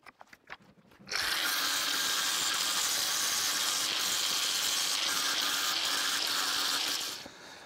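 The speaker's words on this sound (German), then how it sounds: "Jetzt mache ich es noch mit der Schleifscheibe und dem Winkelschleifer noch ein bisschen sauber" An angle grinder with a grinding disc cleans up welded steel on a homemade metal garden stake, whining steadily and loudly for about six seconds after a few short taps and clunks, then spinning down at the end.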